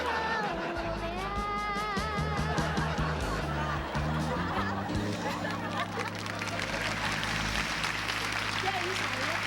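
A studio audience at a TV variety show claps for a singer, with bursts of laughter and people talking over the applause.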